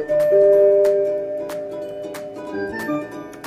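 Casio MT-540 electronic keyboard notes on its mono sound play one at a time in a short melodic run, sustained tones with clicky key attacks, close and moderately loud.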